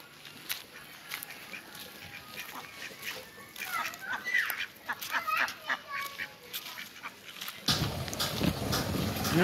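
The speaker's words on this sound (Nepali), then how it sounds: "अगाडि हाँसहरू बसिरहेछ।" Ducks quack and honk from somewhere ahead outdoors along a path toward a market, their calls scattered and irregular at moderate distance, rising louder toward the end over steady ambient noise.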